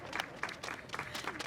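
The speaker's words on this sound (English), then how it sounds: "I gotta clap for them." A few people clap in uneven bursts at an outdoor holiday illumination event, fairly faint and sparse, with a little background voice.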